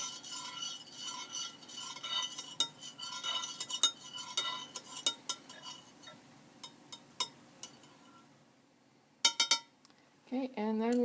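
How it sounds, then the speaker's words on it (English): A spoon stirs water tinted with blue food coloring in a glass container, giving a run of soft clinks and taps against the glass, with louder knocks near the end. "I'll give that a stir."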